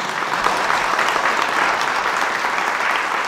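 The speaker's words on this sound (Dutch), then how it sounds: "Die verdient nog een beter applaus" An indoor audience claps loudly and steadily throughout, a dense, even wash of applause with no voices over it.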